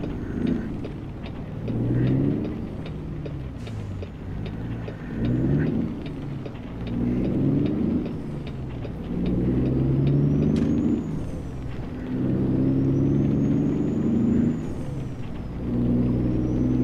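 Truck engine driving in the game American Truck Simulator, a loud low diesel drone rising and falling in pitch through repeated accelerations and gear shifts, with faint higher whines above.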